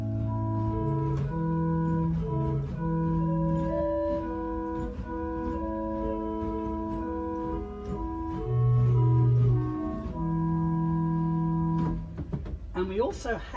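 Willis pipe organ in St John the Evangelist church, the 8-foot Rohr flute stop on the swell playing a slow, soft melodic line of sustained, hooting notes, alone with no talking.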